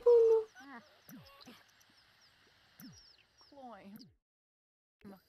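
Chickens cluck in a farm setting in The Sims 4, with scattered short clucks and calls of moderate loudness in a quiet scene; no one talks over them.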